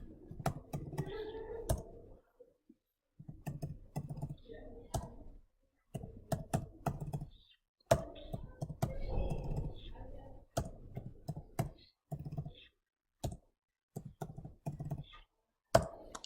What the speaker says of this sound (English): So I'll get my graphics calculator out, go into the menu, into stat mode, and I'll type my data in here.